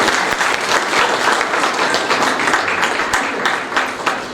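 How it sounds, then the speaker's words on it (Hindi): At a book launch ceremony, a close audience claps loudly and continuously, a thick steady patter of many hands with occasional sharper individual claps standing out. "एक बार इस समर्पण के लिए तालियों के साथ अभिनंदन।"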